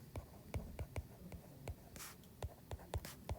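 Pen or pencil writing on paper while working out a statistics answer, a steady run of short close scratchy strokes and taps with no talk.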